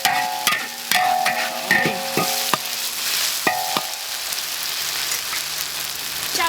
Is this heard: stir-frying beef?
yes